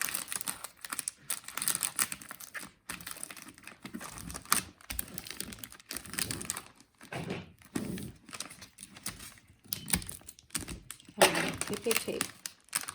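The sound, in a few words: wrapping paper being folded and tucked around a gift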